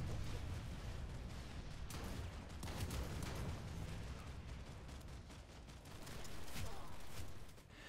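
FA1 Barrage shotgun blasts in Planetside 2, a dense run of gunfire and booming impacts filling the whole stretch at steady loudness, mixed with other battle noise.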